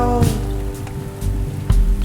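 Heavy rain in a cartoon night scene, drumming loud and close with scattered heavier splats and a sustained tonal hum beneath, no voices.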